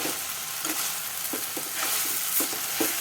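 Onion, tomato and fresh coriander sauté in a pan with a steady close sizzle, while a spoon scrapes and stirs in a few soft repeated strokes.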